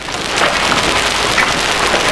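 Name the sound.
hail falling hard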